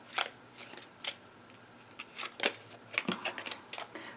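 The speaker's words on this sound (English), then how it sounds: "I have to shuffle." Playing cards being shuffled at a table, a series of quick riffling bursts spread over a few seconds, fairly quiet and close, with no talk.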